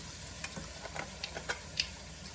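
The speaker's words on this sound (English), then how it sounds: "Just wanted it to stop sizzling for a minute." Quiet, steady sizzling with a soft hiss from food in a pan, broken by small scattered pops and clicks.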